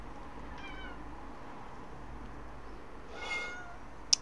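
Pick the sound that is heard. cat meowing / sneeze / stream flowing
cat meowing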